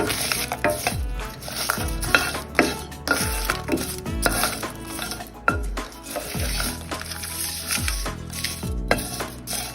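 Curry leaves and green chillies stirred and fried in a pan for a banana kofta dish, with repeated scraping strokes of a spoon against metal over a steady sizzle, close and fairly loud, no talking.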